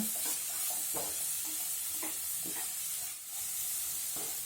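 Coconut burfi mixture with cardamom powder being stirred in a hot pan, rhythmic scraping strokes over a continuous bubbling sizzle, close and even.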